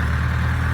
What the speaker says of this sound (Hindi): ये रहा हमारा ट्रैक्टर,